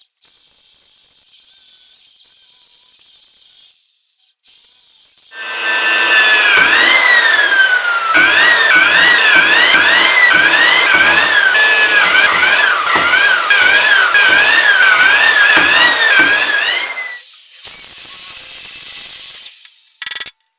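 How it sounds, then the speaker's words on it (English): A loud, continuous drill grinding holes into 60mm thick steel for an anvil, with a wavering high whine and steady rhythmic chatter, close up and without speech. "the amount of holes I had to drill in this 60mm thick steel"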